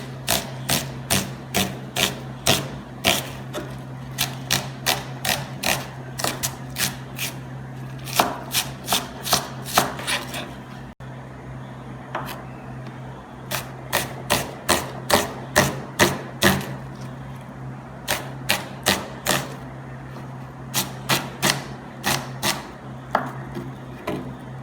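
A very sharp knife chops bell peppers, carrots and onions on a board for a Jamaican oxtail sauce: quick runs of crisp, evenly spaced chops, close and distinct, broken by brief pauses.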